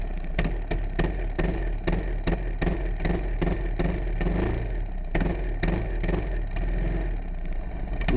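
A Honda go-kart engine revs in rapid repeated bursts on a race track, a loud, sharp, rattly blipping that pulses steadily throughout with no talking.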